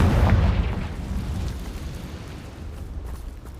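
A Confringo spell blast from a Harry Potter video game, a deep booming burst that hits loud at the start and then rumbles and fades over a few seconds, with no voices.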